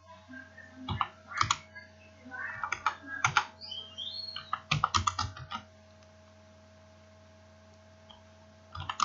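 Fingers tap on a computer keyboard in uneven clusters of crisp, close keystrokes, busiest in the first half, followed by a quiet pause and a final click.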